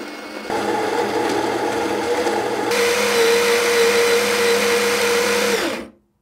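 A Baratza Encore ESP coffee grinder grinds beans in one steady, loud, whirring run that rises in pitch partway through and then cuts off sharply at the end, with no talking.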